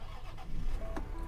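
A Land Rover Discovery at a salvage auction lot starts up with a short, close cranking burst that catches into a low engine rumble.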